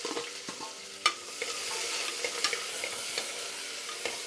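Sliced onion fries with a steady sizzle in a pan, stirred now and then, with sharp scraping clicks of the spoon over the continuous frying hiss; close and moderately loud, with no talking.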